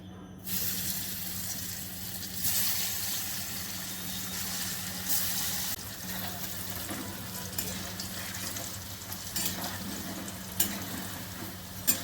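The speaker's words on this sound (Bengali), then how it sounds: "তেল গরম হয়ে গেছে ধোকাগুলো ভেজে নিচ্ছি" Dhoka lentil cakes frying in hot oil, a steady hissing sizzle with occasional louder bursts and crackles, close and soft throughout, with no voices.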